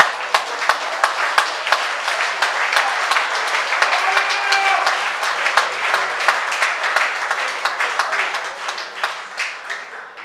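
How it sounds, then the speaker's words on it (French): A church congregation applauds and cheers the Lord in a sustained wave of close, dense clapping, steady for the full stretch without pause. "Je crois que là, on peut acclamer le Seigneur."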